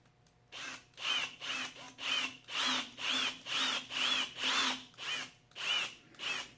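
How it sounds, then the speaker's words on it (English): A power drill whirs in about a dozen short, evenly spaced bursts, each a few seconds long, as it bores into wood, close up with no talking. "I want to try to drill straight into it"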